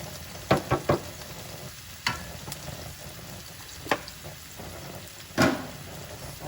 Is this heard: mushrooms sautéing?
yes